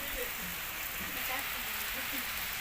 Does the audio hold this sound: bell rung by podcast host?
no